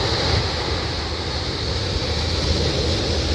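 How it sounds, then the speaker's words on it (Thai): Sea waves washing onto the beach at Laem Charoen, Rayong, on an evening shore; a continuous broad rush of surf, fairly close and steady, with wind, no voices. "นี่ฟังเสียงคลื่นกระทบหาดนะฮะ"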